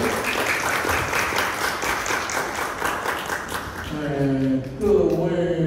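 A hall audience in Yilan gives warm applause to welcome Professor Yan Kun-yang before his lecture. The clapping is brisk and steady for several seconds, then gives way to someone speaking.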